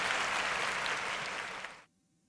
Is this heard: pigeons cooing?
no